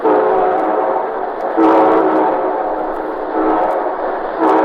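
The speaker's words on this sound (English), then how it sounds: "And here comes our star-studded show train." Train rumbles along steadily while a loud, sustained horn sounds in long blasts, swelling and fading several times.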